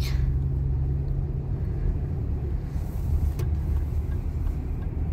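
Traffic rolling along a snowy road in Edmonton in the winter cold, a steady broad low rumble of car engines and tyres, continuous and fairly close with no talking.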